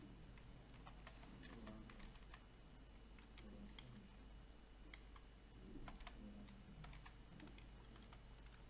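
A computer keyboard is tapped in steady, quiet keystrokes with occasional heavier clicks, continuing throughout against a low background hum.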